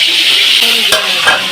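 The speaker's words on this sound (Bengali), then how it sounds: "চিকেন ফ্রাই হচ্ছে" Chicken frying in a pan gives a loud, steady sizzle, with a few clinks and scrapes of a utensil against the pan partway through.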